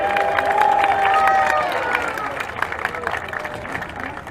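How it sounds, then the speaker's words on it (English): A crowd at a women's rugby match between LIU and Queens cheers and claps for the Queens dance team, a broad wave of applause and shouts that gradually fades into background chatter, with a whistle-like tone early on. "A round of applause for the Queens dance team."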